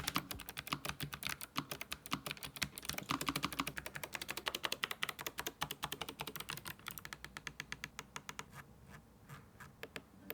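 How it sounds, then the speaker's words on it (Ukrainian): Rapid typing on a Razer BlackWidow V4 Low-Profile mechanical keyboard, a dense run of crisp, even clicks that speed along and then thin out toward the end, close and fairly quiet. "ми чуємо тільки чіткий та приємний клік"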